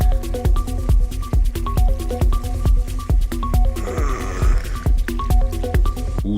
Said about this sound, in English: That is definitely someone sucking on a straw.